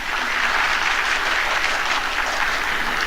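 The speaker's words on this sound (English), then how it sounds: "I want to give him a round of applause too" Audience applause at an Indian classical music school's annual students concert, a steady, dense wash of clapping from many hands that holds evenly loud for the whole stretch.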